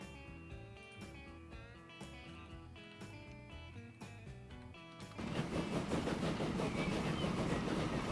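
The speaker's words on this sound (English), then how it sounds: "let's check out our new freight wagon" A freight wagon rolls on rails in the Transport Fever video game. Steady rumbling and clacking grows louder halfway through, earlier layered under game music.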